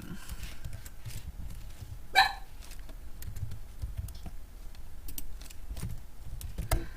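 Soft, close keyboard typing, a name being entered as a run of light, irregular key clicks, with one sharper click partway through and faint background hum.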